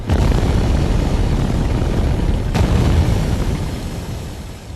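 Heavy cannon fire and explosions aimed at an enemy ship, a loud continuous rumbling roar with one sharp blast midway, slowly fading toward the end, with no talking.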